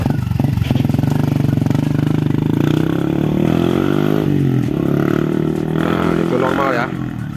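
Yamaha Vixion motorcycle engine revved during a test while fixing a sputtering fault under throttle, a loud, steady close-up drone with rising and falling revs across the whole stretch, briefly easing near the end.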